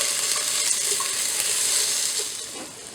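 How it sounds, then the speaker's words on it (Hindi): Onions sautéing in a pan for vegetable lasagna, a close bright sizzle with light stirring, easing slightly toward the end. "ये प्याज हमें पहले सॉटे करनी है।"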